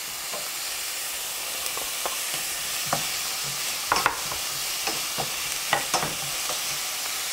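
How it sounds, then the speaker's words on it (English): Chopped celery sizzles steadily in a hot pan, with a series of soft scraping stirs and clatters of a utensil scattered over the constant frying hiss, close and fairly loud. "Right, so I will add the celery."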